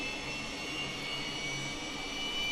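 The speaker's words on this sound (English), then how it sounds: "High-pitched, tweety sounds. We seem to have achieved engine start." A Cessna T-37B Tweet jet engine starting in a flight simulator, giving a steady high-pitched whine over a broad rushing roar that builds slightly, close and continuous with no talk.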